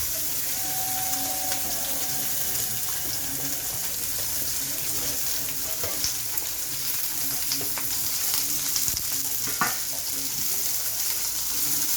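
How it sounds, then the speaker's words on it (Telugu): Paneer curry with tomato pieces, coriander and curry leaves fries in a pan, a steady sizzling hiss with occasional stirring scrapes and clinks, close up. "కొంచెం బ్రౌన్ కలర్ వచ్చేలాగా వేయించుకోవాలి"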